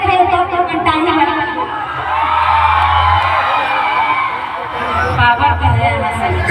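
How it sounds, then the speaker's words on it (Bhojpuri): A large crowd roars and shouts loudly together, the mass of voices swelling and holding strong, with a single speaker's voice audible around the cheering. "एक बार हल्ला करके देखिए"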